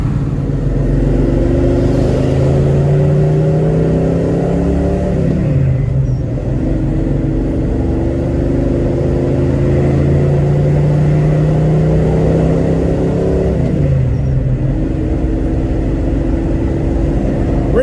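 A 1972 Chevrolet Nova cruises down the road: a steady, loud engine drone and tire rumble from inside the cabin, with the engine note rising and dropping as it shifts through gears, and no talking.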